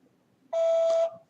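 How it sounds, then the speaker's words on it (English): A single voicemail tone sounds on a phone line, a clean steady beep lasting about half a second that starts and stops sharply against near-silence. "Please leave your message after the tone"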